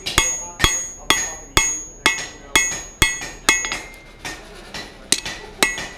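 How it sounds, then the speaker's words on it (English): Hammer blows forging a hot steel taper for a hammer eye drift at the anvil, about a dozen sharp ringing strikes at a steady rhythm, close and loud with metallic clink after each hit. "forge an initial taper, a little bit longer than the piece that we want to drift"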